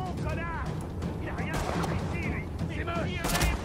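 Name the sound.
gunfire hitting the player in The Division video game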